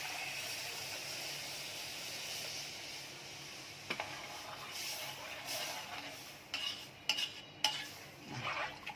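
Milk is poured into browned flour in a pan and stirred, giving a soft continuous hiss with scattered scraping and clinking of a utensil against the pan toward the end.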